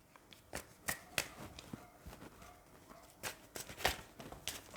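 Tarot cards being shuffled and riffled in quick bursts, crisp flicking and snapping close by, with short pauses between the shuffles.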